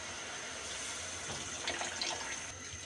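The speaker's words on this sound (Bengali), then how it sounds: "একটু পানি দিয়ে দিচ্ছি," Water poured into a pan of frying rohu fish roe and spices, a steady close rush of liquid swelling briefly toward the end before easing off.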